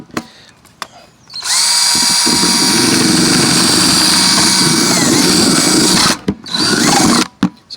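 A power drill bores a hole for a bait well tube on a homemade portable bait well, a loud whining motor running continuously for several seconds after a few faint knocks, then stopping abruptly.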